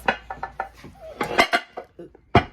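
Glass casserole dishes and a loaf pan clinking together as they are handled in a kitchen, a quick series of close, bright knocks and rattles with a couple of louder clanks near the end.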